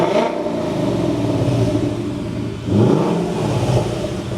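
A car revs through a classic muffler in track mode, giving a deep, steady engine note near and loud, dipping briefly midway before climbing again with no talk over it.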